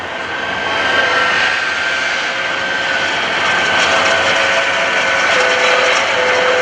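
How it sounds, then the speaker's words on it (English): Shockwave jet truck spooling up at the 2014 NAS Oceana airshow, its jet engines building into a loud, sustained roar with a steady high-pitched whine running continuously throughout. "as the Shockwave spools up to take him on in a race"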